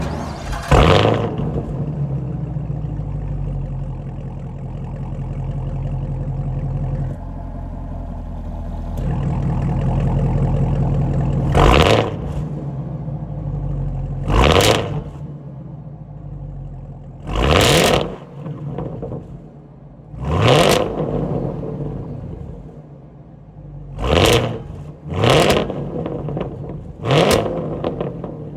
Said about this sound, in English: that was the sound of the supercharged LT4 V8 sold by GM for the 2022